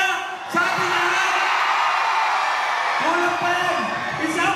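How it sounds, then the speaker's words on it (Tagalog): A crowd at an outdoor town event in Sultan Kudarat, Maguindanao roars, shouts and whoops in a dense, sustained wall of noise, with an amplified voice carrying over it. "Isang malakas na sigawan sa ating lahat."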